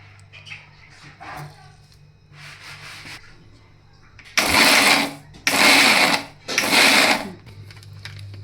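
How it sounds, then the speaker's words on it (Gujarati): A mixer grinder whirs loudly in three short bursts separated by brief pauses, crushing guava chutney with a little water, preceded by quieter clattering and low kitchen noise. "તેને મિક્સરમાં ક્રશ કરી લેશું"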